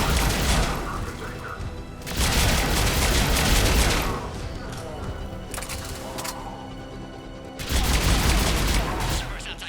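Intense gunfire during a firefight in the video game Mass Effect, sustained rapid bursts of shots in several loud waves, with voices shouting over the combat.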